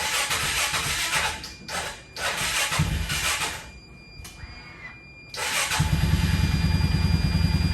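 A repaired Arctic Cat Prowler side-by-side, a Tracker 500, idles unevenly with a steady near engine drone, dipping quieter midway, then roaring back louder and steadier with a rough low rumble.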